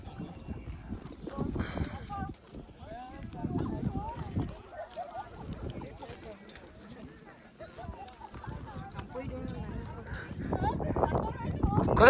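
Horse hooves clip-clop steadily during a ride in Kodaikanal, close and moderately loud, while people talk throughout.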